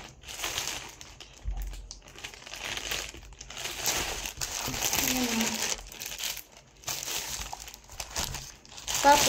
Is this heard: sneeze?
no